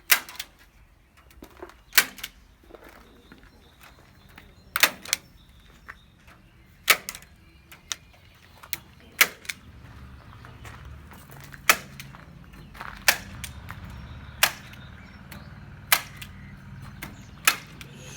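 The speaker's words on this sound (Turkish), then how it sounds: "Kümesimize telleri çaktık. Zımbayla monte ediyoruz." A staple gun fixes wire mesh to a homemade chicken coop for chicks. About a dozen sharp, close snaps land at uneven intervals over a low, faint background rumble.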